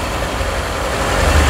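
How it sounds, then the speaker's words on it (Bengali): A used 1500cc car engine idles under an open hood, a loud, close, steady low rumble that holds even throughout. "গাড়ি কিন্তু স্টার্টে আছে।"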